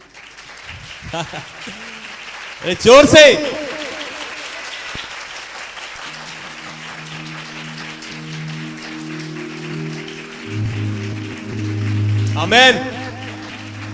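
A church congregation at a Hindi sermon gives two short bursts of clapping and cheering, the second near the end, between stretches of a preacher's voice, with sustained keyboard tones entering partway through.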